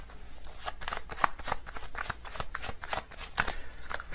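Tarot cards are shuffled steadily for several seconds, a dense run of soft papery riffles and flicks at close range, with no talking.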